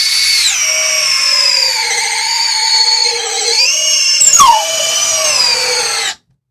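Keelat KCD01 cordless drill running at speed 2 as it bores into hardwood, a loud steady whine that dips in pitch under load, shows a brief bite partway through and then stops abruptly.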